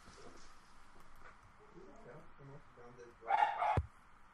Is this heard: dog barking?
yes